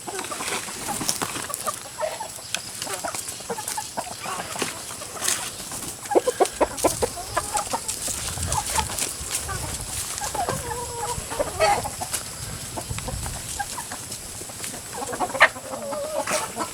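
Several chickens, including a native rooster, cluck and chatter continuously, close by, over a busy, noisy background with scattered louder squawks.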